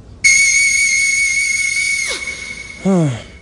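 A very high sung note from a commercial: a piercing sustained whistle-register tone holds for about two seconds, slides downward, then a short lower sung phrase follows.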